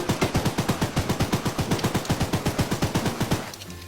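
Rapid automatic gunfire in a horror train video game, a steady burst of about thirty evenly spaced shots over a few seconds that then stops abruptly.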